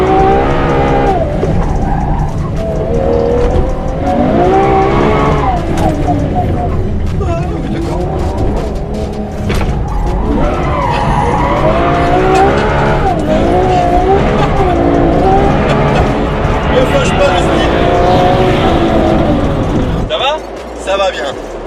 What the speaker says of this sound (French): c'est l'avantage de ce V12, c'est que dès que tu mets un petit peu de gaz, t'as l'arrière qui vient